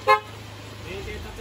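A Yamaha YTX motorcycle horn gives one short, sharp honk right at the start, followed by a low idling rumble and faint background noise.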